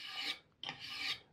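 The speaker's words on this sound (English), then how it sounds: "All this is a wood scraper." A steel wood scraper cut from a saw blade rasps along an axe handle in two long, close strokes separated by a brief pause, each a bright, steady scraping sound.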